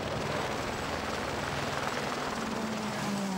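A camera helicopter hovers over a gravel special stage of the 2011 IRC Cyprus Rally, its steady rotor and engine drone filling the air continuously, with no voices heard.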